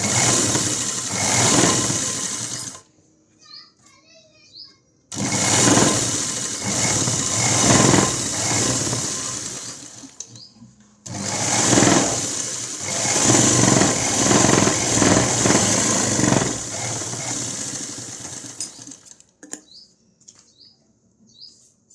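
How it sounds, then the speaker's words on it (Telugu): Sewing machine stitching a straight seam on blouse cloth, a steady whirring motor run in three long bursts separated by short pauses, loud and close, with no talk. "ఈ క్లాత్ని అయితే ఇలా పెట్టేసి స్ట్రైట్గా ఒక స్టిచ్చింగ్ అనేది వేయాలి"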